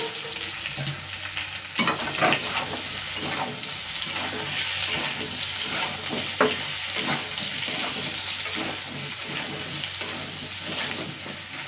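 Pumpkin pieces sizzle and fry in hot oil tempered with five-spice, stirred steadily in a pan, with a loud continuous crackle and occasional scraping and clatter.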